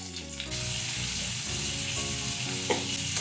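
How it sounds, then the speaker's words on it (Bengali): Cauliflower pieces drop into hot oil in a pan for vegetable khichdi, and a loud, even sizzle starts abruptly and holds, with a couple of light stirring knocks. "এবার দিয়ে দিচ্ছি ফুলকপি।"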